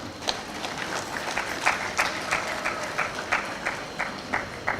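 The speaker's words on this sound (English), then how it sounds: "I thought there would be a clap for that." An audience applauds at a college congregation ceremony, a moderate wash of clapping with rhythmic individual claps standing out and a few voices murmuring in a large hall.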